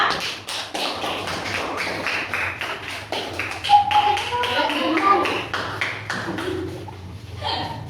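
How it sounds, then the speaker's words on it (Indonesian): Classroom of students applauding a student group, a quick series of sharp claps and taps over several seconds, with voices talking throughout. "Boleh tepuk tangan untuk kelompoknya Kanza."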